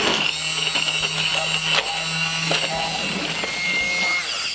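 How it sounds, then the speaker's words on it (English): An electric whisk blends carrot cake jam in a kitchen, giving a steady, close motor whine with slight shifts in pitch as it moves through the mixture, and there is speech alongside it. "take your electric whisk or a whisk of choice, and you're going to blend this in through"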